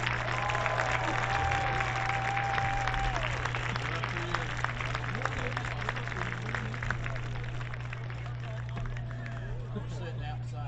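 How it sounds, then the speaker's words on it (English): Steady applause from a crowd fills the stands at a high school football senior night, sustained and fairly distant, with scattered voices and crowd chatter mixed in throughout. "Heritage fans, let's give all of these football players and their parents a round of"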